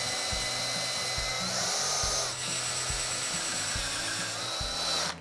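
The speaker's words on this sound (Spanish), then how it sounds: "ahora voy a realizar unos agujeros guía para luego poder introducir los tirafondos" A power drill fitted with a stop-collar bit bores pilot holes for lag screws in wood, whirring steadily in several close, loud bursts with brief pauses between them.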